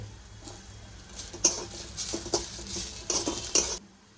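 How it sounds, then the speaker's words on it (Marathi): Ginger and garlic go into fried onions in a pan, sizzling steadily while a spoon scrapes and clinks through them in irregular strokes, close up with no voices. "आता आलं आणि लसूण टाकते।"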